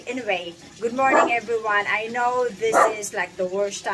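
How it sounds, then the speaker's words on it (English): A dog barks and yips repeatedly in short bursts close by, while someone talks over the noise in a morning greeting. "that's my dog."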